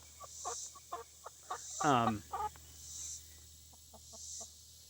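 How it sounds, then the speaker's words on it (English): Backyard chickens make soft, scattered clucks and a brief louder squawking call, heard fairly close against a quiet outdoor background with no talking. "The chickens are being cute, by the way."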